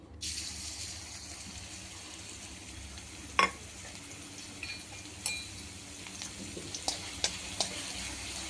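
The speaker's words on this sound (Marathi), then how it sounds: "हिरवी मिरची, लसूण आणि जिऱ्याचं जे वाटण केलेलं आहे ते आपल्याला या तेलामध्ये घालायचं आहे आणि थोडंसं आपल्याला हे परतवून घ्यायचं आहे" A green chilli, garlic and cumin paste fries in oil, giving a steady close sizzle broken by several sharp scraping stirs and clinks of a utensil against the pan.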